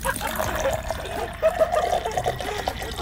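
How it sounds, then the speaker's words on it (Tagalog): Water trickles and drips steadily in the background at Balayan market while a voice talks over it, a soft liquid dribble close by. "Parang tumutulong tubig dyan ha."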